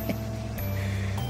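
An airplane takes off in the game Airport Manager: a loud, steady engine drone with a constant low hum that briefly dips and then resumes at full power, with no talk over it.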